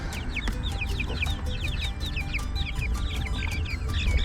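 Silkie chickens clucking close up in quick, overlapping bursts of short, chirpy notes, steady and busy throughout, with no talk.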